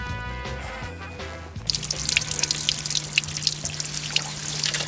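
Mountain spring water trickles and splashes close by on the Hoerikwaggo Trail near Cape Town. It starts abruptly after a short burst of music and then runs steadily with bright dripping.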